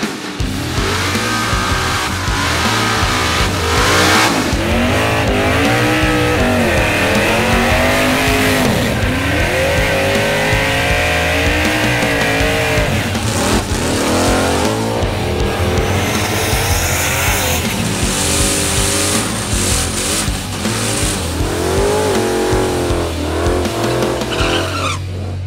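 Drag racing cars thunder down a raceway strip, engines roaring loud and close through repeated revving surges, with tires squealing over a dense, continuous wall of mechanical noise.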